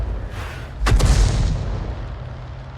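A single heavy boom from a 105 leFH18B2 artillery gun firing in a tank video game, a sharp close blast followed by a long rumbling decay over low background noise.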